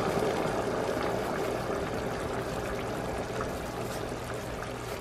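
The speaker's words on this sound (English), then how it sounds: "We're gonna pour 2 cups of water." Water is poured into a pot of rice in a home kitchen, making a continuous splashing, gurgling rush that stays fairly steady for several seconds with no speech.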